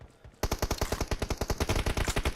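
Rapid full-auto Uzi fire in PUBG Mobile, a steady burst of about twenty close, loud shots in even rhythm after a brief quiet lead-in.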